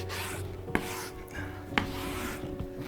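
Wood veneer pressed and rubbed firmly by hand onto a curved table top: a close, steady rasping scrub with two sharp knocks, under faint background hum.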